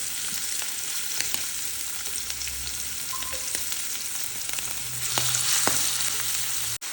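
Prawns sizzle in hot coconut oil in a pan over high flame, a loud, steady crackling fry that goes on without a break, with a few brief clinks and stirs.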